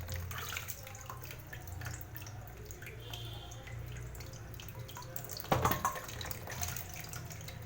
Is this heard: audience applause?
no